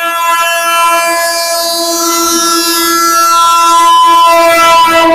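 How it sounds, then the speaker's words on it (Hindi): A train passes close by on a rail track beside a street, with a loud sustained horn blast and steady rumbling of wheels and cars, nearby and continuous throughout. "हमारे दाहिने हाथ पर ट्रेन आ रही है"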